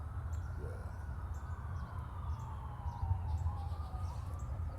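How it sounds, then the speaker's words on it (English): Distant sirens wail faintly over a low, steady rumble of wind and traffic, with no one speaking. "Sorry for the sirens."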